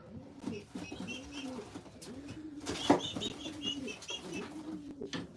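A pet pigeon named Iron Mocha coos in a loft, repeating low rolling coos in a steady rhythm close by, with other birds chirping faintly and a brief rustle or flap in the middle.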